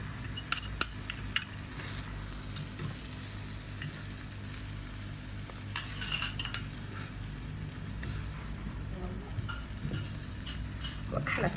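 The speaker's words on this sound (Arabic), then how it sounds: "وهسه راح ندير الخلطة فوق الدجاج" Chicken in a pan with a spice mixture of turmeric, sizzling softly while utensils scrape and clink against the pan in quick irregular strokes, close up, with no talk.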